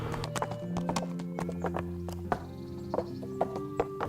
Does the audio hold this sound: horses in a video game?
yes